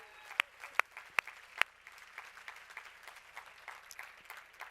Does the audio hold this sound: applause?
yes